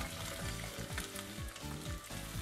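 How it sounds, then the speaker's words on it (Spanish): Sliced zucchini sautéing in a pan of butter and oil with a splash of sherry, a soft continuous sizzle with light stirring scrapes and no talking. "Los rehogamos un par de minutos"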